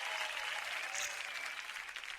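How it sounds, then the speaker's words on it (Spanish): Audience applause at a talk on free speech, comedy and power: a steady, dense wash of clapping from a crowd, moderately loud and continuous throughout, with no talk over it. "vamos a aplaudir por eso"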